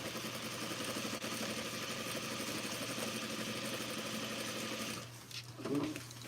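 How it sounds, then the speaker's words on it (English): Sewing machine running basting stitches, a fast even mechanical whirr for about five seconds before it stops, fairly quiet and close, no talk. "Alright, basting stitches are done."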